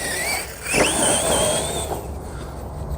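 Hobao MTX 6s electric RC monster truck with big tires driving and doing stunts, a high whining motor that rises and falls in pitch as it accelerates, with a brief thump partway through; fairly close, no talking.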